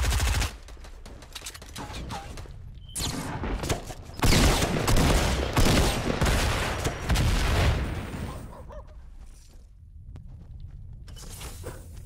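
Gunfire rattles through a video game in dense bursts, with rapid automatic shots swelling loudest in the middle and thinning out toward the end.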